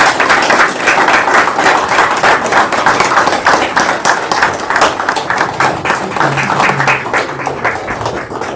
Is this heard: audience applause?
yes